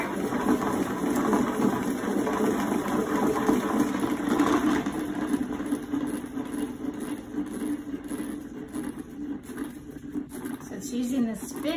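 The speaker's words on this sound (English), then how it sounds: "Now I'm gonna put my salad spinner hat back on and I'm gonna spin." A salad spinner whirs continuously as it spins paint for spin art, a steady rotating drone that wavers slightly and picks up again near the end.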